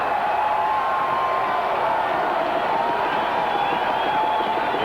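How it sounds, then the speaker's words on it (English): A crowd of a few thousand in a football stadium cheering after a touchdown in a 1988 NY Jets at Kansas City Chiefs game: a steady, dense roar of voices sustained throughout, distant and washy. "This crowd is electrified."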